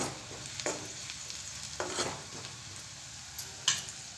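Red chilli powder, coriander powder and salt being stirred into vegetables in a hot frying pan, a continuous soft sizzle with several scraping stirs of a spoon, fairly quiet and close.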